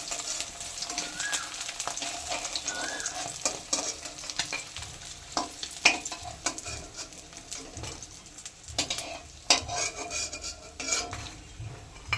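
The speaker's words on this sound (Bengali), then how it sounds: "মাছটা এবারে উল্টিয়ে দিলাম, লাল লাল করে ভেজে নিয়েছি" Batter-coated amudi fish fry in hot oil, a continuous crackling sizzle close by with scattered sharp spatters and occasional utensil clinks, faint birdsong in the background.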